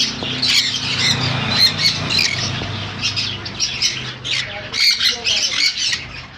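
Sun conures and other conure parrots screech in repeated harsh bursts at a bird shop, loud and close, with someone talking underneath between the calls.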